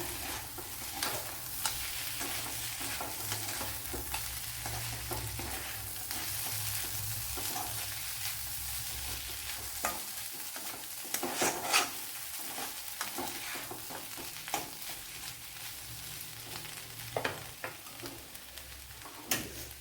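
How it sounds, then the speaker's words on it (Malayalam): Food sizzles softly in a pan as it is stirred after salt is added, with steady frying hiss and intermittent scraping and tapping of a spoon or spatula, close and unaccompanied by speech. "ചില ഉപ്പ് കൂടെ ഇട്ട് കൊടുത്ത് നല്ലവണ്ണം ഒന്ന് ഇളക്കിയെടുക്കാം"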